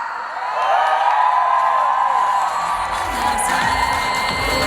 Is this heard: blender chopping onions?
no